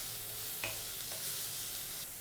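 Onions sautéing in a pan for egg gravy give a faint, even sizzle with a couple of soft stirring scrapes, quiet and unbroken with no voices.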